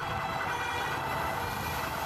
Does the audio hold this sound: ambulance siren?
yes